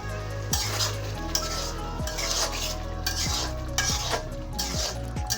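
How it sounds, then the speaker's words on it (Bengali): Beef tripe curry masala sizzles and fries in a pan while a spoon scrapes and stirs it in steady repeated strokes, with metal knocks on the pan, loud and close throughout. "আর একটু কষাবো, নেড়েচেড়ে দিলাম"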